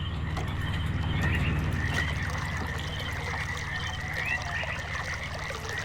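Flowing water in the video game Myst, a steady trickling stream with a faint high-pitched whine running over it, moderately quiet and continuous.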